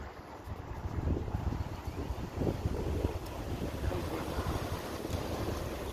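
Steady wind blowing across an open outdoor disc golf course, a continuous low rushing roar with gusty swells, buffeting the microphone throughout with no talking.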